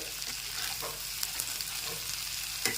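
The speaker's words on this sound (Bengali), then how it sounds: "এখন মশলাটাকে একটু কষিয়ে নিচ্ছি" Spice paste with salt and tomato purée sizzles and fries in oil for a Bengali bhola fish curry, stirred steadily in a pan, with soft scraping stirs over a continuous crackle.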